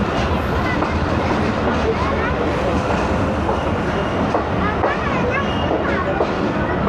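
At Shahdadpur railway station, a crowd boards a train amid loud, dense babble and shuffling, with rumbling rail noise and talk running through the whole stretch.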